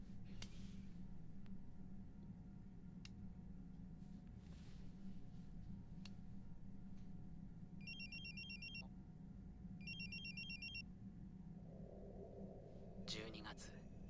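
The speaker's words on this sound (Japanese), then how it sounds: "12月、クリスマスが近くなった頃、姉京子から再び電話が来た" Short electronic telephone ring in an anime episode sounds twice, faint and high over a steady low rumble, with soft speech elsewhere.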